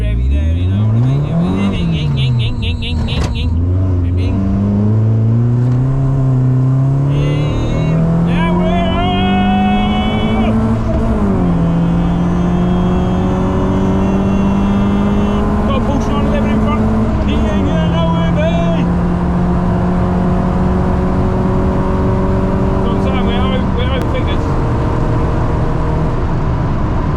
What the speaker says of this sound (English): oh, a bit revvy there, baby. Bit revvy there